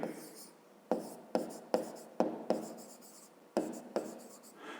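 A pen writes out a fifth-grade math solution by hand on paper, with scratchy strokes in short bursts, each starting with a tap and trailing off, close and fairly quiet.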